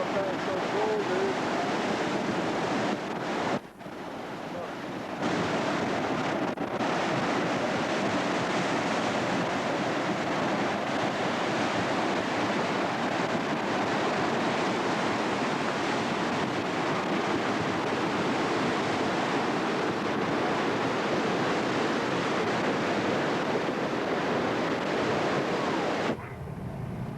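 Rushing water of the Russian River running high with snowmelt after an avalanche in a mountain valley, a steady loud broadband roar that fills the whole stretch, with brief wind buffeting on the microphone.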